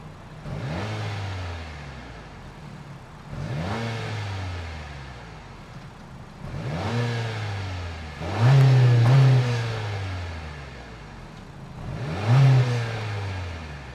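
A 2025 Acura ADX's 1.5-liter turbocharged four-cylinder engine is revved five times in a row, each rise climbing then falling back to idle, with the last two revs the strongest.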